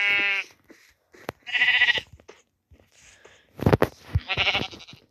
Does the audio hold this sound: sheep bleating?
yes